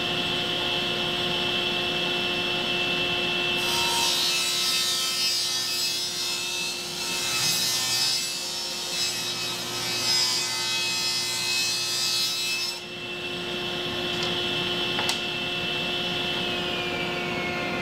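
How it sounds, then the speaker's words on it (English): Table saw ripping a quarter inch off each edge of a wooden board for shop furniture, a steady loud whining cut lasting about nine seconds over the machine's constant hum, then the blade spinning down. "I've cut a 1/4 inch off of each side, and so now I've got nice crisp corners here."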